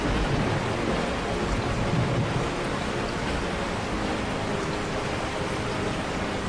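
Steady, dense rain pouring down, a constant hiss with a low rumble underneath and no voices.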